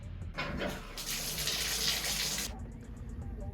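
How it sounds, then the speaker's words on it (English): Water gushes from a turned-on tub or sink faucet, a steady loud rushing that swells for a couple of seconds and then drops back to a lower hiss over a constant low rumble, with no talking. "after turning the faucet on, the water is moving in the main sewer line"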